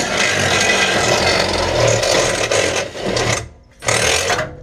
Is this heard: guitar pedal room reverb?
no